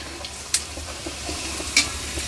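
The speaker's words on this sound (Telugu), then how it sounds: "నేను ఇంకా డీప్ ఫ్రై చేసి చూపిస్తాను" Rice flour vadiyalu deep-frying in hot oil give a steady close sizzle, broken by two sharp clinks of a ladle or spoon against the pan; no voices.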